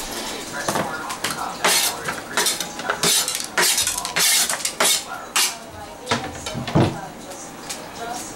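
Vegetables are set into a pot around a beef chuck roast for a beer braise, giving repeated clinks, knocks and scrapes of food against metal and utensils in an uneven rhythm.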